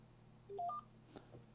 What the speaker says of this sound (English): registered and we heard a beep